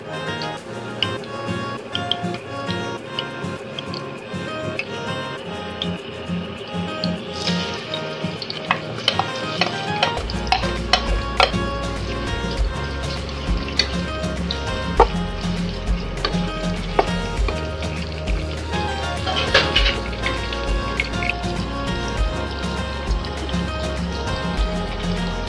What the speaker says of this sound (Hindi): ये मैं प्याज को लाल कर दी